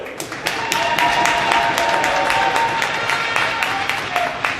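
An arena crowd at a men's college hockey senior night applauds a player, steady clapping with scattered sharper claps and a murmur of voices throughout.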